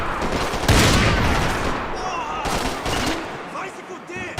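Sustained gunfire in Max Payne 3 rattles loudly in dense automatic bursts, with heavier booming reports mixed in, and a voice briefly shouts over the shooting.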